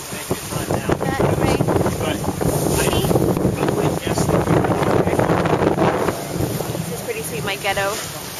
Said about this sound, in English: The boat, I think, has been up to like 8 or 9 knots